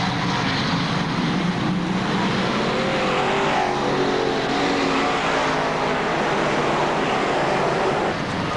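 Race cars run on a short oval track at a Fonda dirt track event under yellow-flag conditions after a crash. Their engines make a steady, loud roar that blends with crowd and ambient noise throughout, and no distinct voices can be picked out.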